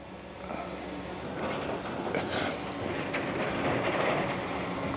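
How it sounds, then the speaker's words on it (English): A train rumbles past on the rails with a steady broad roar and faint rhythmic clatter, fairly close and unbroken for the whole stretch. "the train is in"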